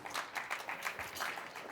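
An audience claps at a State of the City address, a faint, distant patter of hands in uneven bursts over a short stretch.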